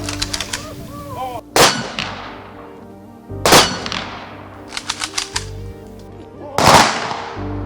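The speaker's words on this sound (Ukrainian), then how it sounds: "На честь полеглих захисників прозвучали останні військові салюти." Three loud rifle volleys of a military funeral salute crack out a couple of seconds apart, each ringing off with a long echo, with smaller sharp reports scattered between them.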